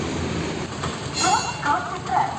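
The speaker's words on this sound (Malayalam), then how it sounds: "ഇതാണ് കുറുപ്പന്തറത്തെ വിശ്വപ്രസിദ്ധമായ റെയിൽവേ ഗേറ്റ്" A train passes the Kuruppanthara railway level crossing, a steady broad rumble that swells in waves with brief higher tonal bursts, heard from nearby with faint voices in the background.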